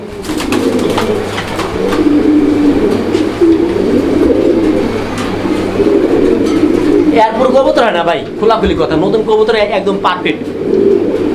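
A male pigeon coos repeatedly up close, its low rolling calls running throughout with a burst of livelier calling near the end, over a steady background hum.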